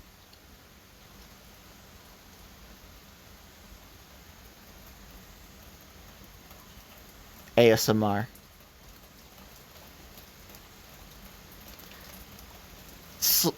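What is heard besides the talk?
rain on a tin roof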